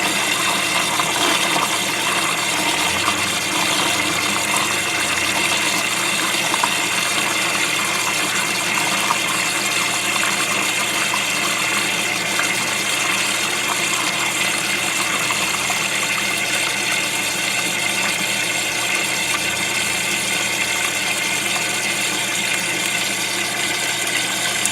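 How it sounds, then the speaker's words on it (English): Water steadily filling and draining inside the flush box of a PW Octoplus air gap, a continuous rushing gush with a low mechanical hum underneath, close and unchanging for the whole stretch, with no voices. "it's filling up, and then the water's going to end up overflowing out of the front of the soap drawer"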